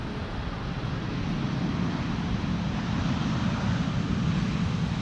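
A large four-engine airliner such as an A340, 747 or A380 lands in a gusty crosswind. A steady, loud roar of engines and wind holds for the whole stretch, with no voices.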